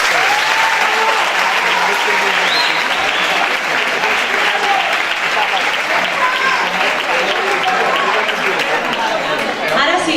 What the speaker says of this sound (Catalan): Per a tots ells, un fortíssim aplaudiment.